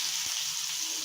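Curry leaves and cumin seeds crackle in hot oil in a Kanyakumari-style bitter gourd dish, a steady close sizzling hiss with one soft thump early on, no voices.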